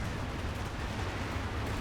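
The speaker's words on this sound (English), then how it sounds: "There's so much artillery hitting this area." Artillery shells pound an area in Company of Heroes 2, a dense continuous rumble of blasts and battle noise with no distinct pauses, no talk.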